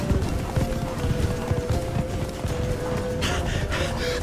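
Hooves of Roach, Geralt's horse in The Witcher 3: Blood and Wine, pound in a fast gallop, a steady clip-clop rhythm over continuous ambient noise.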